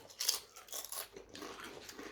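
Crisps crunched in the mouth during a blind taste test of gluten-free, vegetarian and vegan varieties, giving a few close, crackly bites in quick bursts with no talking.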